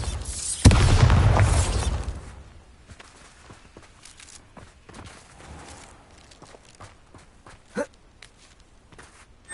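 The Bombarda blasting spell in Hogwarts Legacy goes off as one loud, deep explosion that booms for about a second and then fades, followed by scattered light footsteps and small clatters.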